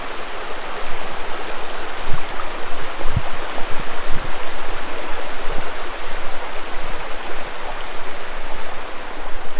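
A stream rushes steadily at a water crossing on the Fiery Gizzard Trail, a loud, close, broadband wash of flowing water that continues without a break and has no talk over it.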